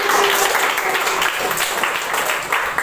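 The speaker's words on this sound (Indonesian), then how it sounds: "Tepuk tangan untuk Ananda Alisa dan Firdaus." A class of students clapping together in a classroom, a dense, steady patter of applause that stays loud throughout.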